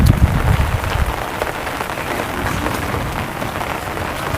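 Heavy rain pours down steadily, a dense hiss of drops drumming on surfaces with no voices.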